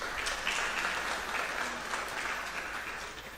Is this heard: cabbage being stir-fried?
no